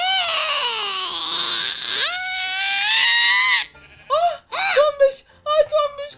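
Minecraft sheep giving long, wavering bleats, loud and close, followed by a few shorter broken cries; the sound is prominent and continuous at first, then choppy.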